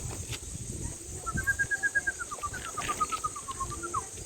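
Pigeons, one larger and one smaller, being readied for flight training; a run of soft, whistled bird calls rises and falls for a few seconds over a steady background hiss.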